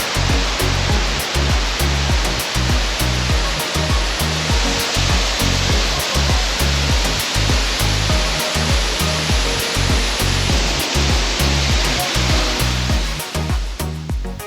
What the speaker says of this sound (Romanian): Principala atracție din orașul Mani este, evident, cascada, aflată pe un masiv stâncos